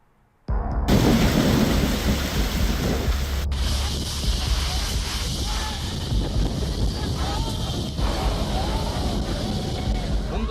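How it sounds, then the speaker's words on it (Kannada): Heavy summer rain pouring in Chikkamagaluru, Karnataka, with thunder: a loud, steady roar of rainfall and wind, and a sharp crack partway through. "ಬಿರು ಬೇಸಿಗೆಯಲ್ಲೇ ಮಳೆ ಅಬ್ಬರಿಸುತ್ತಿದೆ."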